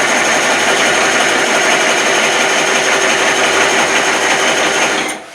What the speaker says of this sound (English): I'm gonna start my cutter.